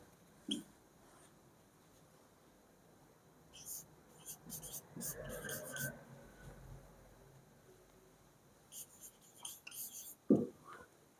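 A teacher writes on a board in a classroom, with short bursts of scratchy strokes in two clusters separated by quiet pauses, plus a brief knock near the end.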